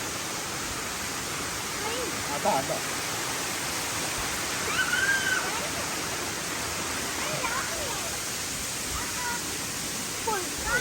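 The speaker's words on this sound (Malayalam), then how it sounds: "ഈ മേളീന്ന് വരുന്ന വെള്ളച്ചാട്ടം" Steady broadband rush of falling water fills the whole clip, a constant roar with faint higher chirps drifting over it.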